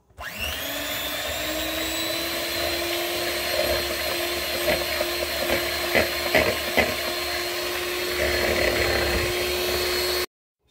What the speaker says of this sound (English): I'm going to use a hand beater.